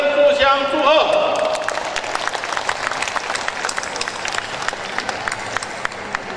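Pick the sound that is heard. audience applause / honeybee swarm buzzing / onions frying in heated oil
audience applause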